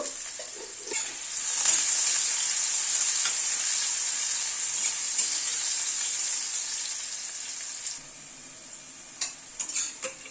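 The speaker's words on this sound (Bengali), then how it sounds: "আলুটাকে ভেজে নিলাম।" Small cubes of lightly boiled, salted potato fry in mustard oil with a bright, continuous sizzle that softens near the end, broken by a few light stirring clicks.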